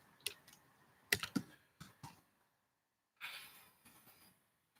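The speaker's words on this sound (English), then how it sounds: "Making sure I'm typing" Quiet computer keyboard typing during a quiz, with scattered single key taps and short clusters of clicks, then a longer run of keystrokes after a pause.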